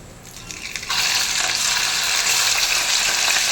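Prawns hit a hot pan and fry, starting with a quiet patch and then bursting into a loud, steady, close sizzle that continues to the end.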